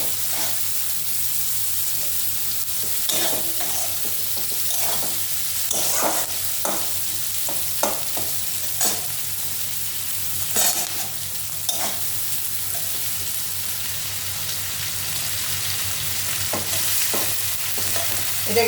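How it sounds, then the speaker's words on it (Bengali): Chopped onions frying in hot oil in a pan while being stirred, for a Bengali fish curry; a steady close sizzle with repeated scraping stir strokes throughout, no talking. "এটার মধ্যে এটা ঢেলে দেবো পেঁয়াজটা"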